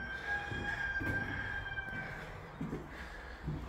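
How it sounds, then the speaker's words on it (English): A caged rooster crows at some distance outdoors, a drawn-out call rising over steady background rumble, with a few shorter clucking bursts following; no talking is heard. "They got a rooster out in a cage back there."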